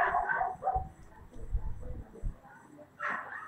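Neighbours' dogs on a rural ranch in Veracruz give a few short, muffled barks at a distance under faint background noise, coming in uneven bursts.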